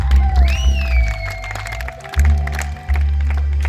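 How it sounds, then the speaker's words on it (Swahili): A church congregation at a gospel preaching meeting in Sumbawanga claps and cheers for Jesus. The loud, rumbling crowd noise carries a high, wavering whoop or ululation rising above it. "Makofi kwa Yesu aliye hai"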